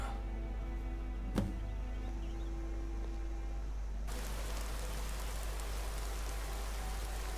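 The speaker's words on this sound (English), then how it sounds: "At least the rain provides some cover." Rain falls in the video game Skyrim as a soft, steady hiss that swells into a fuller, denser wash of noise partway through. There is no speech.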